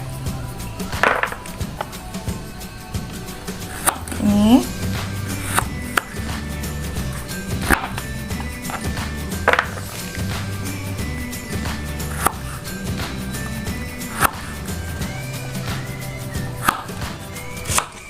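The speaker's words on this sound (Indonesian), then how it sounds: "Kita iris tipis-tipis jengkolnya Bunda." A knife thinly slices jengkol beans on a cutting board in a home kitchen, producing a steady series of sharp, close taps and knocks, with no talking over it.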